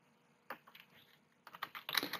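Keys tap on a computer keyboard as a short word is typed, a handful of close clicks that thicken into a quick burst at the end, with no voices.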